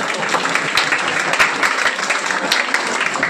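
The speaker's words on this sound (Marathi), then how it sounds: "जोरदार टाळ्या द्यायला पाहिजे आपल्या." An audience in a hall at a retired primary teachers' association event applauds, dense continuous clapping at fairly close range, steady for a few seconds with no voices above it.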